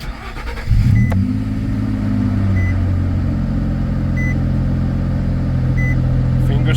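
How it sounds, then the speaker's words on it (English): A car engine starting during a collision sensor repair, cranking and then settling into a loud steady idle close by, with faint repeated warning beeps over the running engine. "let's turn the car on"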